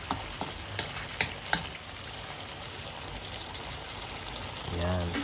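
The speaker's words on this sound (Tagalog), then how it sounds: "pwede na natin ilagay yung ating pinaghugasan ng bigas" Rice washing water is poured into a simmering pot of chicken sinampalukan, with stirring scrapes and a soft sizzle leading into a short gurgling pour near the end, under a person speaking.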